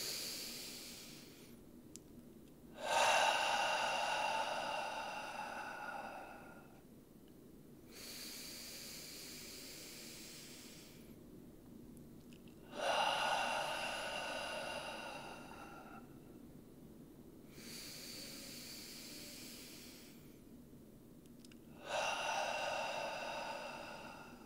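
Three slow, deep breaths in through the nose during a group breathing exercise, each a long airy inhale followed by a quieter exhale, close to the microphone with pauses between them.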